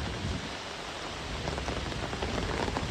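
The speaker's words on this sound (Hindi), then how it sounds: "बारिश आ रही बहुत है गाइस, पर मौसम बहुत अच्छा हो रखा है।" Heavy rain pours steadily during a wedding's haldi ceremony in Goa, a dense, even hiss of drops drumming on surfaces that stays loud and continuous throughout with no voices.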